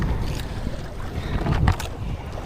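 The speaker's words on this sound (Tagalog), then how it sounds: "Laki ng alon." Large waves hit a small boat on the Pacific Ocean during strong monsoon winds, with a low, rumbling wash of water and gusting wind noise that swells to a heavy surge midway. No one speaks.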